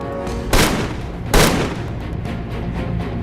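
Two sharp gunshots ring out about a second apart during an arrest scene in a 1950s-set TV drama, each a loud broadband crack with a brief ringing tail over low background ambience.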